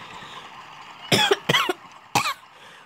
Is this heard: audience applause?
no